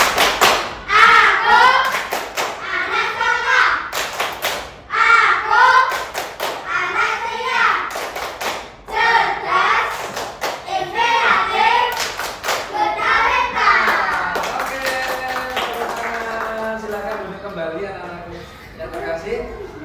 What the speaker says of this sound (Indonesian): kita awali dengan tepuk Semalta